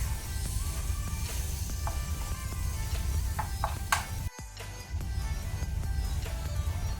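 Masala fries gently in a generous amount of oil on a low flame, making a soft, quiet sizzle with a few light clinks and stirring scrapes. A brief hush comes partway through.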